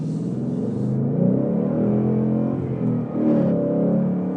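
A 2018 Ford Mustang GT V8 engine with a six-speed manual revs with a deep, throaty rumble that rises and falls, heard from close range with no talking.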